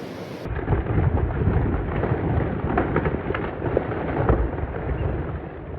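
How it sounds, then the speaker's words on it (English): A thunderstorm rumbles with continuous heavy rain, low thunder rolling steadily throughout and a few louder crackling bursts. "It's really a storm"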